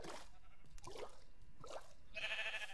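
Short bleats from sheep in Minecraft sound in a series of separate bursts, the last one brighter and more sustained, over a faint, quiet background.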